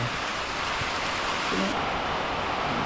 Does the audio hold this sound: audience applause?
no